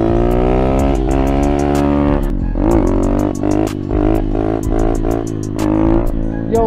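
A motorcycle engine revs loudly and continuously while the rider pulls wheelies in an open stunt lot, the pitch rising and falling in repeated throttle blips with strong harmonic drone throughout.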